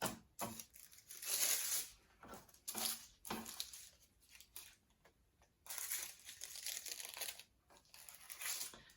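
Plastic packaging crinkles in bursts as it is pressed against 24K gold leaf laid on skin. Close, crisp rustling swells and fades repeatedly, separated by brief quiet gaps.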